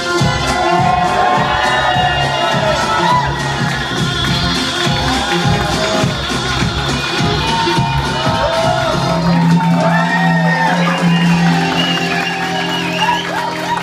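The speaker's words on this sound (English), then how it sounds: "Big applause going to the beautiful Miss Vixie Rouge" Burlesque audience at a Cardiff cabaret club cheers and whoops for a performer, a lively crowd roar sustained across the whole stretch with music-like tones underneath and shouts rising near the end.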